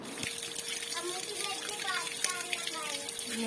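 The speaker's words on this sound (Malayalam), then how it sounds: "ഈ വെള്ളം വീഴുന്ന സൗണ്ട് കേൾക്കാൻ നല്ല രസമാണല്ലേ." Water falls and trickles like a small stream in a steady, moderate wash of sound, with a voice and faint chirpy vocal sounds mixed over it.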